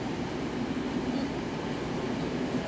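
A metro train rolls past during a train parade on Moscow's Big Circle Line, a steady, loud, continuous rumble of wheels and carriages with no break and no voices.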